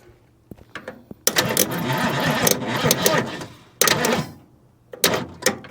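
An electric fuel pump in an abandoned Ford Mustang Mach 1 whirs loudly and close in two bursts, the first lasting several seconds and the second shorter, with a brief later flurry, set against quiet background noise.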